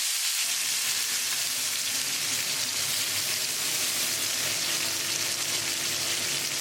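Butterflied chicken breast with lemon juice sizzles and fries steadily in a hot skillet, a dense continuous crackle at close range with no talking.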